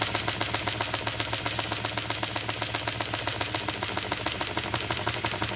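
A model steam engine runs steadily nearby with a fast, even mechanical chuffing and knocking rhythm that holds constant throughout, with no pauses or speed changes.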